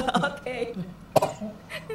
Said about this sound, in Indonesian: Gak apa-apa ya, batuk dikit dulu.